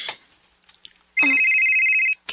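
Telephone ringing with a single sustained electronic ring tone lasting about a second, loud and close, preceded by faint talk.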